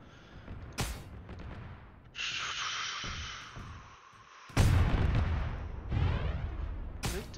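Smoke rounds landing in a military video game: a few sharp booming impacts at irregular intervals, each followed by a sustained hissing spread of smoke, fairly loud and close with no talk.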